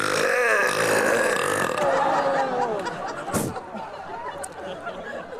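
A Guinness World Record-holding belcher lets out a long, loud, deep burp that lasts more than a second, followed by laughter and chatter from people nearby.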